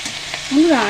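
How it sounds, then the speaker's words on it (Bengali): Kharkol leaf paste sizzles and is stirred in a pan, a brief soft frying hiss with a scrape of the spoon, heard close and fairly loud. "একটু নাড়িয়ে চাড়িয়ে দিতে হবে"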